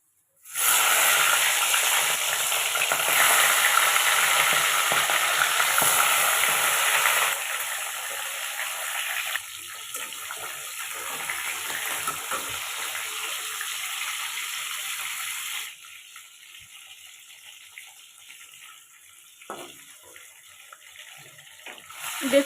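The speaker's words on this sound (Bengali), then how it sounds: "মাছগুলো ভেজে নেব।" Fish heads frying in hot oil in a wok, a loud steady hissing sizzle that settles into a softer, quieter crackle as the frying goes on.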